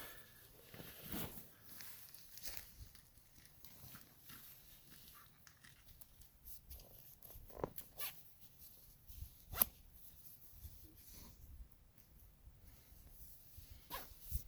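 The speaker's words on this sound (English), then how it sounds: "Simply zip it in on each side." A Zenbivy bed quilt being zipped onto its bed sheet, a series of quiet, close zipper pulls in short irregular strokes along each side, with soft fabric rustling and no talk.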